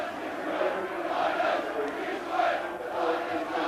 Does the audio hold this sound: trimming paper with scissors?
no